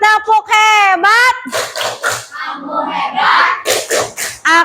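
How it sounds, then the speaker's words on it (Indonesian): Fifth-grade classroom children performing a chanted clapping cheer, rhythmic claps mixed with lively young voices and a teacher speaking, all close and loud. "Tepuk hebat buat Zidan."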